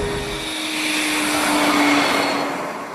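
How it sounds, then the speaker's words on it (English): A steady high-pitched turbine whine from a 1950s gas turbine concept car sings over a broad rushing roar, holding close and constant with a slight swell in the middle. "you hear that turbine engine singing along and it feels like you're cruising in a jet"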